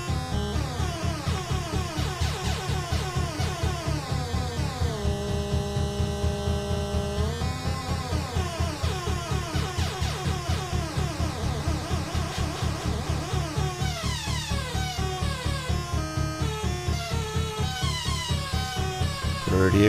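Bastl Kastle modular synth with a sine LFO patched into pitch, giving a loud, continuous buzzy drone whose tones swoop and wobble up and down throughout, with no voices.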